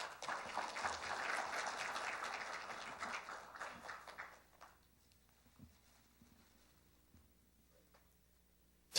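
An audience at a Korean software industry protection awards ceremony claps in congratulation as a ministerial prize is presented. The applause is dense and steady for about four seconds, then thins out and fades into quiet room tone with a few scattered claps.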